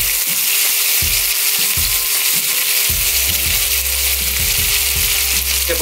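Spicy chicken sausages and meatballs grilling, a loud continuous hiss and sizzle up close, with soft thumps and clacks of turning and handling in the lower range.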